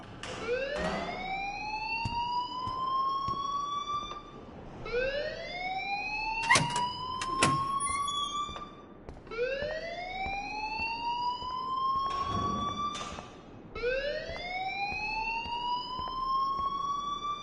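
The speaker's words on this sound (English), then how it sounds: "please turn off that alarm since that's your job" A wailing alarm siren from the video game Life is Strange sounds loud and continuous, rising in repeated sweeps about every four to five seconds, with a few sharp clanks between cycles.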